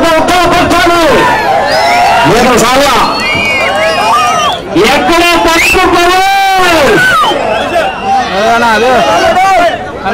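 Crowd of farmers at an Ongole bull pulling contest shouting and cheering, loud overlapping yells and whoops with someone talking over them, continuous and close throughout.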